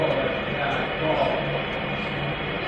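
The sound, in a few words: sports broadcast playing from a radio in the shower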